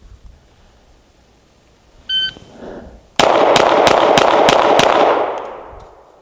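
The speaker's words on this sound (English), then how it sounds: "Let me see if I can shoot at about that same cadence and get all A-zone hits with the P-07." A short electronic timer beep, then six rapid, evenly spaced shots from a CZ P-07 pistol on a shooting range, loud and close with a ringing echo that fades out.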